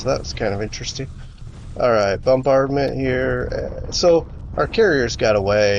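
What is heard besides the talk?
No everyday noise stands out behind the speech.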